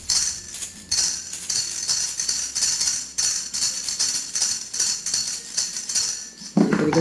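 Toddler musical rattle toy shaken repeatedly, giving a bright, jangly metallic clinking in a steady rhythmic pattern, fairly close and alone.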